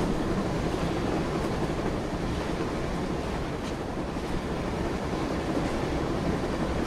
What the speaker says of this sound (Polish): No i widać, że ten pociąg ewidentnie jedzie.